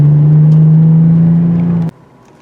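A 2020 Toyota 4Runner TRD with an old five-speed automatic sends out a steady, loud, low exhaust drone that holds one pitch. It cuts off abruptly near the end and leaves quiet background.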